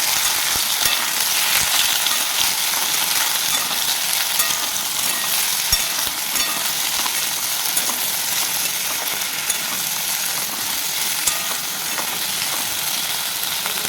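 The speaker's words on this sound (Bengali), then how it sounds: "কেটে রাখা আলু, কচু আমি তেলের মধ্যে দিয়ে দেব। এটাকে তেলে ভালোভাবে নেড়ে নেব।" Cut potatoes and taro fry in hot oil, a dense continuous hiss and crackle close up with occasional soft stirring knocks, steady throughout with no voices.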